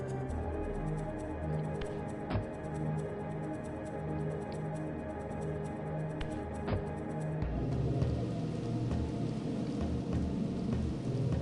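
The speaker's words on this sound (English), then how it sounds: "uh-oh, that's rain" Steady rain falls in a dark fantasy action game set in Raziel's territory, a continuous broadband hiss that thickens after a few seconds, layered over a low looping game soundscape with occasional sharp clicks.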